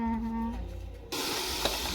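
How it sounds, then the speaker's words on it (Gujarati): A tempering for stuffed brinjal curry hisses sharply as it hits hot oil. A low hum comes first, then the sizzle bursts in suddenly and carries on loudly to the end. "બનાવ્યો વઘાર દઈને હો ભરેલા રીંગણાનું શાક."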